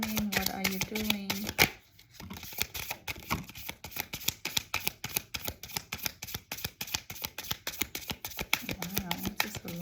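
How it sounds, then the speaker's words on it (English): Rapid crisp riffling of cards being shuffled, a long run of dense ticking bursts with a brief pause early on, close and fairly quiet. "this is a long shuffle."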